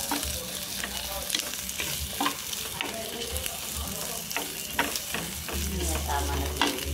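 Garlic and ginger sizzle steadily in a hot pan while a utensil stirs and scrapes, producing irregular clinks and taps over the constant frying hiss.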